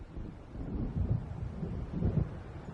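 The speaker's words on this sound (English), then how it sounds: "It seems there's a storm coming." Low rumbling thunder of an approaching storm in the Alan Wake video game, rolling continuously with two swelling peaks over a steady wash of wind and rain, no voices.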